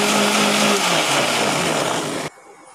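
A mixer grinder runs loud and steady, blending butter with water in a steel jar for about two seconds, then cuts off abruptly, leaving near silence.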